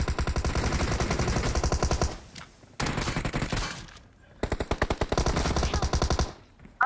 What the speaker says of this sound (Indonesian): Ada orang tembak.